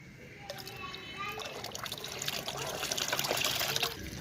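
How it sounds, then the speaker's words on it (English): Water trickling and splashing as a baking soda mixture is poured into 10 liters of water, a steady soft pour that grows slightly fuller toward the end, fairly faint with no talk. "Now dilute this mixture into 10 liters of water."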